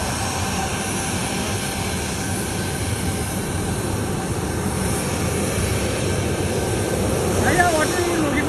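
A steady roaring engine drones throughout as an Oman Air airplane comes in to land at Kozhikode airport, swelling slightly toward the end, with faint voices in the background.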